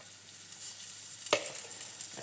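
Veggie pancake batter frying in a pan gives a faint, steady high sizzle across the short stretch, with one sharp click of the spoon or pan partway through.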